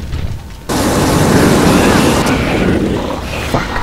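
A loud, sustained burst of fire roars in The Thing video game, erupting abruptly and holding as a dense rushing blast for several seconds before easing slightly.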